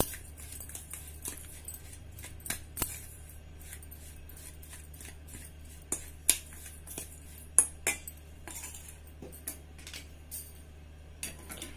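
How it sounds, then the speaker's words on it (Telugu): A spoon stirs renikaya pachadi mixture with soft, irregular clinks and scrapes against the vessel. It is fairly quiet, with a few sharper taps standing out and no talking. "ఈ మిశ్రమం మొత్తం ఉండలు లేకుండా బాగా కలుపుకోవాలి."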